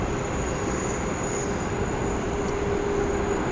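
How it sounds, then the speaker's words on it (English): A Jetstar Airbus A320 jet taxiing out along the taxiway at Sydney or Brisbane Airport, a steady, fairly faint engine hum and whine held at an even level throughout. "Jetstar A320 is coming out to play."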